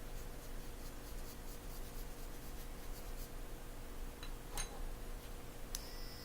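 Faint scratchy strokes of charcoal drawn across paper, soft and steady with light rhythmic rubbing and a few brief ticks, close and quiet with no talk.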